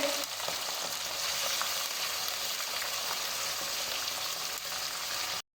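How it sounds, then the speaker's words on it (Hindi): Chicken pieces of thigh, breast and leg, about 800 grams, fry on high flame in a karahi, a steady dense sizzle running continuously without talk until it cuts off near the end. "चिकन का कलर लाइट गोल्ड होने तक 5 मिनट हाई फ्लेम पे फ्राई करेंगे एक साइड को"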